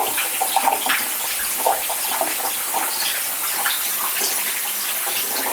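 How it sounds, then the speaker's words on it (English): Water from a tap rinsing a color film developing tank after bleach-fix, a steady loud gushing splash running throughout at close range, no talking. "I'm going to rinse out everything."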